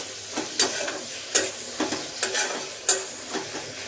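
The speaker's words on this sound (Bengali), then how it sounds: "বেগুন দিয়ে শাক ভাজা করছি" Greens with eggplant and onion frying in a pan, a soft steady sizzle broken by several sharp scraping stirs of a spatula at irregular intervals, close by and fairly quiet.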